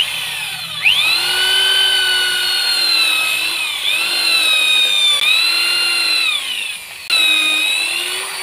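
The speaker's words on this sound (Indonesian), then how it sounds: "Sini saya memakai bor karena kayu ini terlalu keras dan gampang pecah." A power drill whines steadily at high pitch for several seconds, dipping briefly a few times as it bores into hard wood, loud and close.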